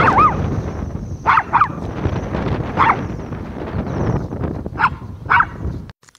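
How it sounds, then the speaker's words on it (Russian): A dog barks outdoors beside a playground sandbox, giving about six sharp barks spaced irregularly over steady wind noise and low rumble, with no talking. "Вот она и лает."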